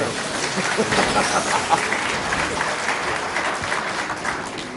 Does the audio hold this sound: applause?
yes